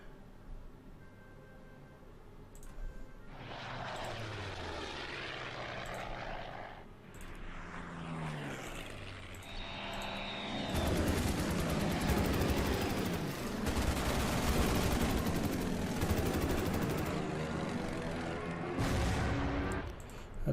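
An Italian propeller plane drones through a World War II strategy game, Order of Battle, while heavy gunfire and artillery-like bursts build into a loud, dense barrage that lasts most of the clip.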